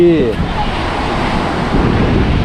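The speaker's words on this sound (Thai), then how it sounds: "ตอนนี้เราอยู่ ทะเลจันทบุรี" Sea waves wash onto a sandy beach at Laem Sadet in Chanthaburi, Thailand, a steady rushing surf mixed with wind buffeting the microphone and a brief voice at the start.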